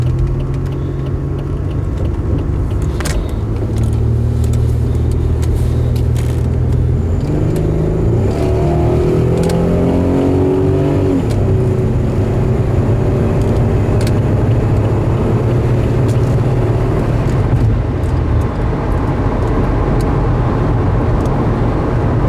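A car engine hums steadily while driving, then revs higher and climbs in pitch as it accelerates partway through before settling back to a steady drone.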